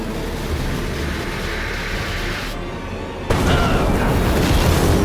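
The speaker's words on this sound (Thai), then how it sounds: "ระเบิดออกมา" A heavy explosion in the dark fantasy action game Lords of the Fallen, a loud sustained rumbling boom that cuts off for a moment and then returns even louder, with no talk over it.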